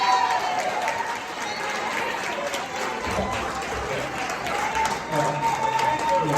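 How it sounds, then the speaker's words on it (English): A crowd of residents and trustees applauds Mayor Lightfoot, with dense, sustained clapping throughout and a low rumble joining midway. "give a round of applause to Mayor Lightfoot for their hard work"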